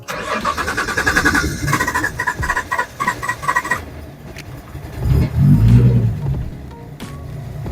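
A starter cranks rhythmically for a few seconds, then a Nissan 300ZX engine with an upgraded fuel pump catches and settles into a rough idle with a brief rev.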